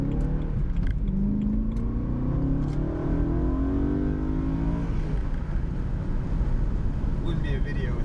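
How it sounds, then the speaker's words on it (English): A BMW E92 M3 engine roars loudly through an acceleration pull, its pitch climbing steadily with rising revs, close and continuous, with a voice talking over it. "Still love the way this car sounds."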